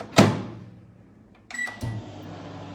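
A microwave oven reheating food in a home kitchen for another 30-second round: a sharp door thud, a quiet low hum, then clicks and a brief tonal beep-like sound, all close by with no talking.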